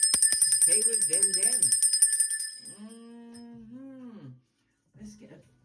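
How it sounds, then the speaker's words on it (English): A small bell rings with a bright metallic tone that decays in the opening second, then someone talks. "Let me ring my bell and let that bajuju stay with them."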